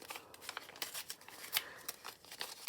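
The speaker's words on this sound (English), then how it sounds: "or you can use scissors" Scissors snip through paper for a kids' paper-boat craft, a quiet series of short crisp cuts and rustles at an uneven rhythm, close up with no talking.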